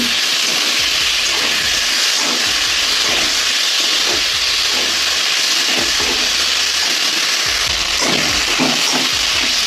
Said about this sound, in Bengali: পোস্ত বাটা দিয়ে দিলাম পোস্তটা ওর সঙ্গে ভেজে নেব